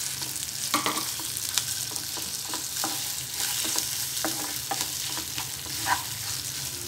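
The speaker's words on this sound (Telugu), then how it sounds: "తాలింపు ఫ్రై అయిన తర్వాత ముందుగా నూరుకున్న పచ్చడి వేసుకోవాలి." Ground coconut tomato chutney is stirred into a frying tempering of mustard seeds, dal, chillies and curry leaves, a close sizzle broken by repeated spoon scrapes and clicks against the pan, no talking.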